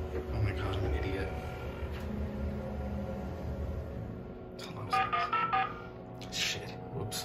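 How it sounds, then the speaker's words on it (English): An emergency phone in a 2002 Schindler 330A elevator dials out with a rapid string of beeping tones near the end, following a stretch of low rumbling noise while people talk. "Oh shit, that's the phone."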